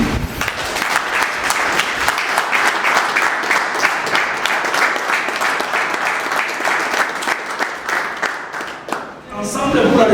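Sustained crowd applause at a diaspora political party gathering, loud and continuous for most of the stretch before tapering near the end as a voice returns.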